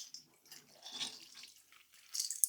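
Chopped vegetables are squeezed by hand to press out excess water, giving faint, soft squelching drips and trickles in brief bursts, with a wetter splash near the end.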